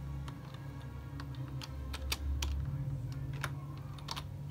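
Quick keystrokes on a computer keyboard typing a player username for Fortnite, a run of light, close clicks in an irregular rhythm over a low steady hum.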